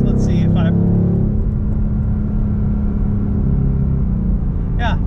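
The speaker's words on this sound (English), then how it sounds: "There are a little bit of pops coming from this exhaust, which is nice." Ford Mustang Dark Horse V8 on a race track: a loud, steady low engine drone from inside the car, with a few sharp exhaust pops near the start and end, and a voice talking over it.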